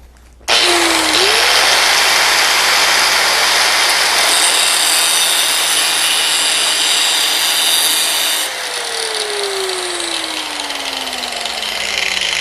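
A power saw cutting through a steel piece for a tool rest arm: a loud, sustained, harsh grinding roar that starts abruptly and runs steadily for about eight seconds before shifting to a slightly lower, winding-down whine.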